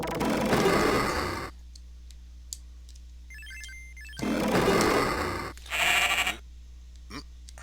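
Bleating sheep calls sound in a retro video game as a cue that a secret has appeared, loud and close, mixed with electronic chime tones and game effects.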